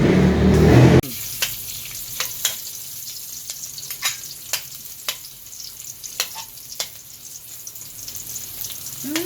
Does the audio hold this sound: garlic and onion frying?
yes